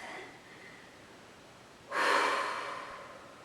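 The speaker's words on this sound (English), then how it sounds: "taking a deep breath" A deep breath during a Pilates exercise: after a near-silent stretch, a sudden, close, breathy exhale rushes out and slowly fades.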